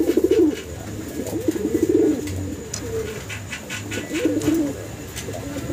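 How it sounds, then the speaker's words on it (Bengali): Black Lakkha fancy pigeons coo repeatedly in low, rolling phrases, fairly close and clear, with brief gaps between calls and faint higher chirps in the background. "দর্শক ভিডিও স্ক্রিনে আমরা কালো এক পেয়ার লাক্ষা কবুতর বাইরে দেখতে পারতেছেন।"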